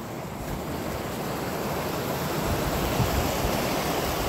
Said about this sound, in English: It's a nice river fall.